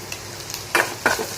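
Ivy gourd fry with red chili powder is stirred in a pan, with a gentle sizzle under three or four distinct scraping strokes of a spoon, close and fairly loud.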